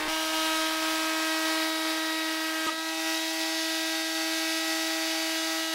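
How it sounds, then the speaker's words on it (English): A router table cuts a tele-style acoustic electric guitar body from wood, giving a loud, steady high-pitched motor whine with strong harmonic tones that runs throughout, a brief click near the middle, and no talking. "Using a router table,"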